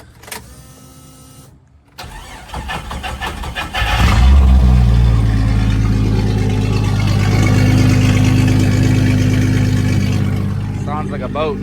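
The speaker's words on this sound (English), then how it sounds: "It's pretty loud. Hear this thing crank." A Jeep Cherokee with a straight-pipe exhaust cranks briefly, then fires up and settles into a loud, rumbling, boat-like idle that holds steady and close.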